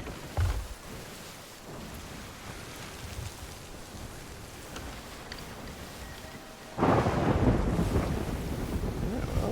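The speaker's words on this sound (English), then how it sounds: "good news is the storm's starting to calm down in here" A thunderstorm at sea in the pirate game Sea of Thieves: wind and rain hiss steadily, a low thunder rumble near the start, then a sudden loud surge of rain and wind toward the end.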